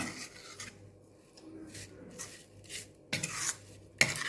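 A spoon scrapes and rubs through a dry spice masala in a bowl, mixing stuffing for fried chillies with a cumin and coriander base, giving short gritty strokes and a few light clinks, quiet and close.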